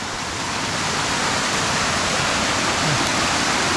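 Forest stream flowing over rocks: a steady, loud, broadband rushing of water that stays unchanged throughout, close by, with no voices.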